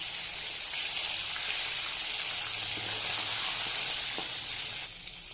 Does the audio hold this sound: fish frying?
yes